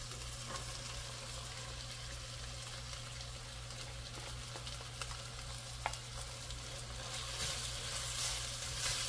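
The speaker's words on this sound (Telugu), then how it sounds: "ఆనియన్స్ మంచిగా ఫ్రై అయ్యింది. ఇప్పుడు బీట్రూట్ వేస్తాం" Chopped beetroot fries in a pan with already-browned onions for beetroot biryani, a soft, even sizzle with faint stirring clicks that swells slightly toward the end.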